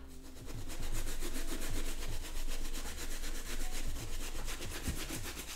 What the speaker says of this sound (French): se munir d'une petite brosse et d'un petit torchon, et on peut la nettoyer assez facilement